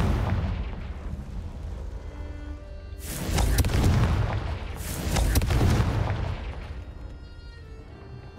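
Two heavy Confringo blast-spell explosions in a Harry Potter video game, each a deep booming burst with a rumbling tail, about two seconds apart over a quiet game background.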